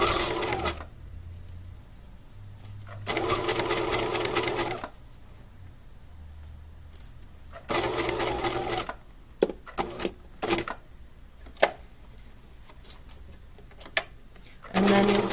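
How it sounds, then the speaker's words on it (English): A sewing machine stitching muslin fabric for a tote bag, its motor running in several bursts of rapid whirring, separated by quiet pauses with small clicks and taps. "you'll do that all the way around, sewing right from edge to edge, no back stitching"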